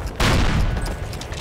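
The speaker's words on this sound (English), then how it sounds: "This cannon's about to go boom." A cannon blast in the Call of Duty World War II battle at Brecourt Manor erupts suddenly and loudly, then a sustained roar of gunfire rumbles on briefly, with no one talking.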